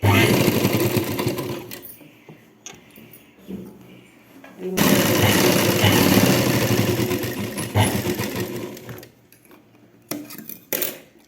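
A sewing machine runs in loud, close bursts as it stitches the end of fabric folded twice for a blouse, the motor whirring in long runs broken by short pauses and a final quick spurt.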